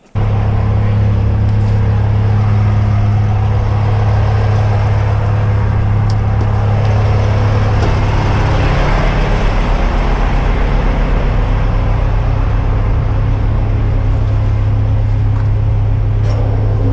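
A CASE 350D excavator's diesel engine runs steadily at close range during unloading from a truck, giving a loud, constant low drone throughout.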